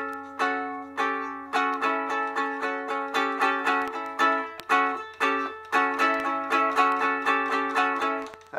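A ukulele strums a rhythmic 1-4-5 power chord pattern adding the 5, 6 and flat 7, with bright, evenly pulsing strokes played close and alone for several bars.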